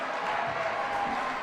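A crowd at a climbing competition roars in a dense, steady wash of cheering and shouting, loud and continuous from start to end.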